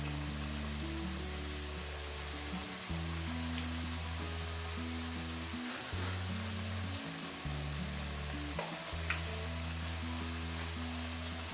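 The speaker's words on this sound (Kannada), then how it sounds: "ಎಣ್ಣೆ ಕಾದಿರೋದ್ರಿಂದ ಎಣ್ಣೆಯಲ್ಲಿ ಅದೇ ಜಾರ್ಕೊಂಡು ಎಣ್ಣೆಯಲ್ಲಿ ಬೀಳುತ್ತೆ" Chakli dough frying in hot oil, a continuous close sizzle and bubbling crackle, with a low humming tone underneath and no talking.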